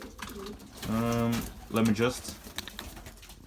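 Racing pigeons, including an ace cock bird, coo in two close, drawn-out calls in the middle, with someone speaking briefly over a quiet loft background.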